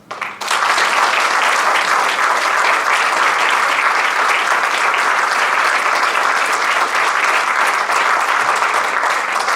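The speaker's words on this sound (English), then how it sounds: "I think we need to applaud one more time in their honor" Sustained audience applause at an Eagle Scout ceremony honoring two boys, starting abruptly and holding dense and steady for nearly ten seconds without talk.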